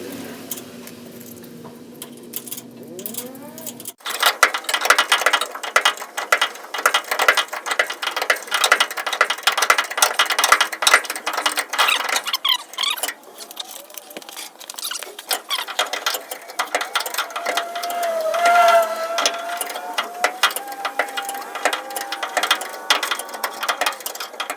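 Steady mechanical ratcheting as a nut is tightened against washers to press a bolt out of a 1976 Ford F150 rear suspension, a dense run of rapid clicks that continues without a break, close and fairly loud.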